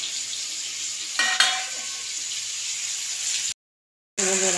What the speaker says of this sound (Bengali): ভালো করে কষে দিচ্ছি মশলাকে